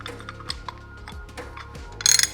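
A heavy-duty 3/4 inch torque wrench with a 2-inch socket ticks through a few sparse mechanical clicks, then a short fast ratcheting burst near the end, close and crisp.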